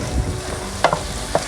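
Ground turkey sizzles steadily in a pot for one-pot dinner cooking, with a few sharp scrapes and knocks as a utensil stirs it, close and fairly loud with no talk.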